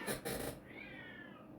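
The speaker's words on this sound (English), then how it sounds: "I thought it was a cat in my house." A cat meows outside a house, a drawn-out wavering cry heard from a distance after a brief burst of noise, faint and alone.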